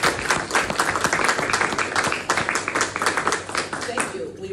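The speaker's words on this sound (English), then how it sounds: "So can you guys join us in a round of applause?" An audience at a district council meeting breaks into lively applause, a dense burst of many hands clapping close by, with voices mixed under it throughout.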